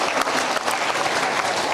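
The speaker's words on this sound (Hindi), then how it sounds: "जोरदार तालियों के साथ आप सभी उनका अभिनंदन करें।" An audience at the Chakradhar Samaroh cultural festival in Raigarh applauding a chief guest, with dense, steady clapping from a crowd filling the whole short stretch.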